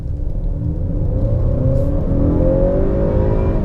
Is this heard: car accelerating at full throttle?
yes